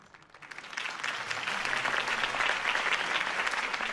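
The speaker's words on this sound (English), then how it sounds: "could have heard that applause" Crowd applause breaks out after a campaign speech for Harvey Dent in the Batman: The Telltale Series video game, swelling quickly from a few claps into dense, sustained clapping that stays full to the end.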